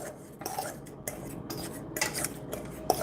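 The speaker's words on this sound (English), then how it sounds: "I'm just going to mash, mash, mash." Cauliflower mashed by hand, with steady scraping and clinking of a utensil against a bowl in uneven strokes, close and moderately loud, with no talk.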